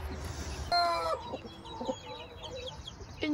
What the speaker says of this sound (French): Une poule avec des poussins qui sont issus des tests de fécondité de nos parcs